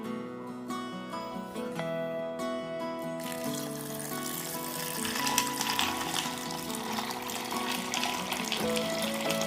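Water runs and trickles into a container of chickpeas set to soak, rising from a light dribble to a fuller steady gush, close by with no talking.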